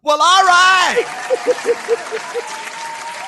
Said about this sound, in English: whenever the studio audience heard something cool, they start clapping